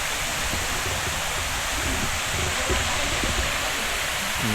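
Continuous close roar of falling water at Swimming Falls in Bulacan, a dense even wash with faint splashy texture throughout, no voices over it.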